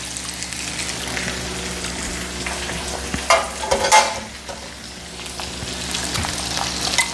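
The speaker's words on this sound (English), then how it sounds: "let me get my whisk. Because I want this sauce to be smooth." Raspberry chipotle sauce being whisked in a pan, a steady simmering sizzle with a burst of brisk whisk scraping around the middle, close up and alone without speech.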